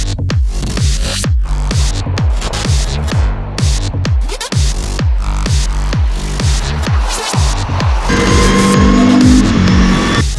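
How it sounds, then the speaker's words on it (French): Race cars of the Lamera Cup, 25 cars, launching at the start at the Magny-Cours circuit, engines revving hard through rapid rising gear changes as cars pass close and loud, one after another. "17h30, départ des 25 voitures"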